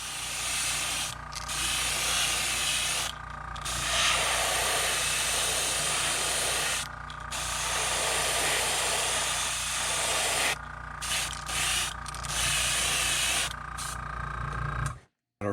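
Spray gun laying a pearl paint coat over a white base coat on a crankbait fishing lure: a loud, steady hissing spray in long bursts broken by brief pauses, close up and alone.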